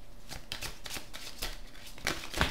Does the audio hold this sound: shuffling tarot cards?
yes